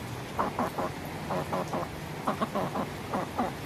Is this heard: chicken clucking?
yes